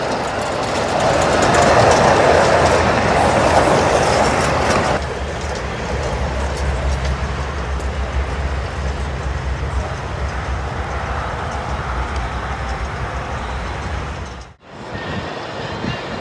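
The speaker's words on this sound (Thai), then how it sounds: "นี่คือรถไฟ ของแท้นะฮะวิ่งได้ด้วย" A homemade train rolling through a rice field, a steady rumbling clatter that grows louder and then settles into a continuous run, fairly close, with a short dropout near the end.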